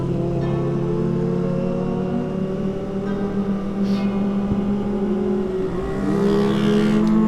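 Motorcycles on a Sunday morning group ride overtake, their engines droning steadily with a rising rev and a louder pass near the end, and no talk is heard.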